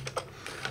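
A handful of quick, soft keystrokes on a computer keyboard, close and faint over a steady low hum, with no voice.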